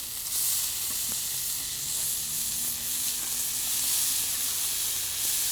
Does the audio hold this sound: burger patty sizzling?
yes